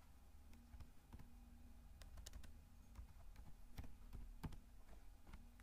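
Faint, steady typing on a computer keyboard while entering MongoDB database commands, a run of soft irregular key clicks over low background hum.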